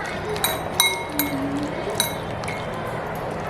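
A spoon stirs a chicken marinade of lemon juice and yogurt in a bowl, making several bright clinks against the dish over a soft wet background, with voices faintly present.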